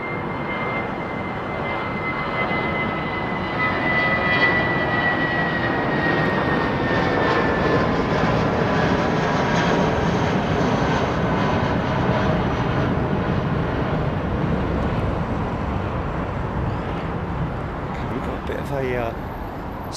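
Air Serbia airliner at London Heathrow Airport, a steady broad jet engine roar held loud through the whole stretch, with a faint whine running over it and people talking at times underneath.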